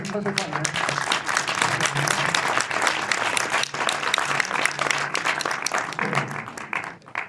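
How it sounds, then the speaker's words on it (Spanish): Applause from an audience at a press conference for a German film festival, honoring filmmaker Germán Kral: dense, sustained clapping from many people, loud and continuous throughout. "quiero pedir un aplauso acá para Germán Kral"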